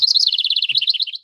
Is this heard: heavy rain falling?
no